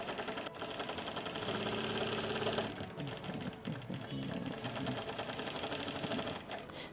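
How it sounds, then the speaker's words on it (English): A sewing machine runs continuously at a close, even pace, stitching along a lace skirt hemline with a rapid mechanical whir and a brief change in pitch partway through. "I'll go ahead and stitch by 1/4 of an inch or half an inch as you wish. I'll go through the entire width of the hemline."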